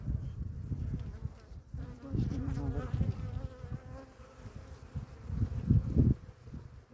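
Dense, droning buzz of many bees close by in a hive, rising and falling in intensity with some rustling, no speech.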